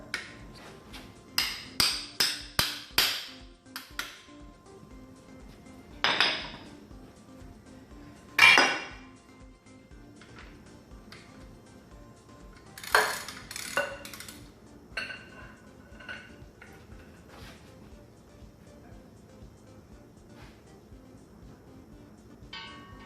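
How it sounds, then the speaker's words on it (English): Metallic clinks and taps as a smaller socket is jammed onto a rounded-off bolt on a Ford Ranger, sharp scattered knocks in short bursts against a quiet background. "So I'm going to try to jam a smaller socket on it."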